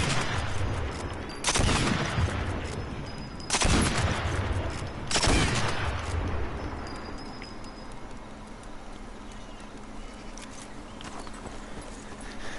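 Rifle chambered in .303 British with a ten-round magazine firing in Sniper Elite 4, three loud, sharp shots spaced a second or two apart, each with a booming echoing tail, followed by quieter ambient background.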